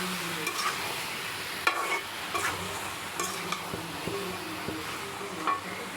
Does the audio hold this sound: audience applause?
no